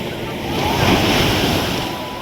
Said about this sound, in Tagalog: Sobrang lakas ang alon.